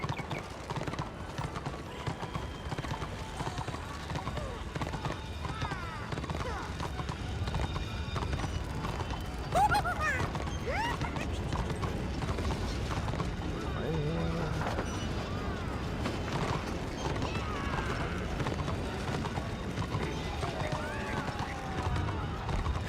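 Horse hooves clip-clop steadily in the video game Warhammer: Age of Reckoning, a continuous fairly quiet trot with a brief louder clatter midway, set against a dense game soundscape.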